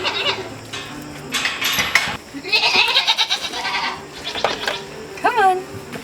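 Several farm goats bleat near and at varying pitch, with one sharp bleat near the end, amid rustling and light clinking as a dog chases around them.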